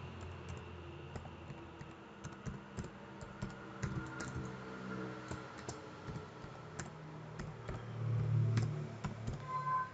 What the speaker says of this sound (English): You can type the valid email address here.